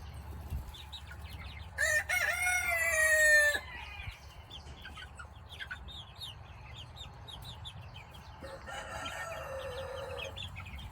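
Farm chickens at feeding time: a rooster crows loudly once near the start, followed by scattered clucks and soft bird calls from the flock.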